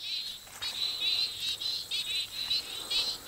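Litoria burralongensis frogs call in a forest, a chorus of high, rapid trilling pulses repeating in bursts about every half second, moderately near, with faint background hiss and no talk.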